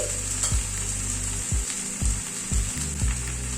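Fried lentil dumplings being mixed into bitter gourd frying with fenugreek, a steady close sizzle broken by roughly six spatula knocks against the pan at a regular pace, no speech.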